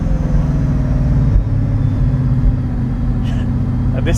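Bugatti Veyron Grand Sport pulling away in first gear, a loud steady engine drone with a deep low rumble that stays strong throughout, with faint brief clicks near the end.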